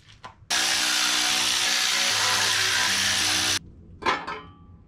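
An impact gun or power driver whirs loudly and steadily for about three seconds while removing the windage tray bolts on a 5.3 LS (LM7) engine during teardown, then a short burst of tool clatter follows.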